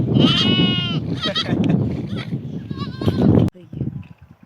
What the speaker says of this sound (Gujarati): સરસ મજાના છે આ ઘેટા